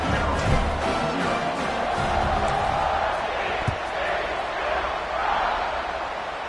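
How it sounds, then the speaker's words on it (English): Stadium crowd at a college football game roars steadily as the kickoff approaches, a broad sustained cheer with whoops filling the space and no pauses. "this crowd now ready to get behind them"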